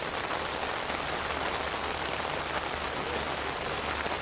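Steady rain pours down during a youth rugby match, a dense constant hiss of drops on surfaces with no break across the few seconds.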